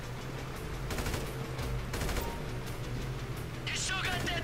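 Shooters on the track open fire in GTA 5, bursts of rapid gunfire cracking over a low engine rumble, with a voice talking over it.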